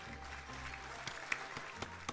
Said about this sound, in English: I'm surprised by the loud applause.